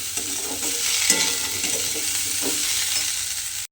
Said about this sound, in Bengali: দিয়ে আবারও কিন্তু খুব ভালোভাবে নেড়ে এক থেকে দু মিনিট মতো আর একটু ভেজে নিতে হবে